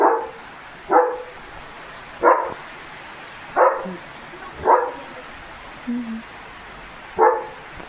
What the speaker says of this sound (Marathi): त्याला कुत्र्यांचा आवाज येतोय तिकडं